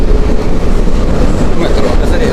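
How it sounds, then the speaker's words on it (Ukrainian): A metro train running in Kyiv, a loud steady roar and rumble of the carriage on the rails with faint clickety-clack, filling the whole moment with no speech over it. "Метро."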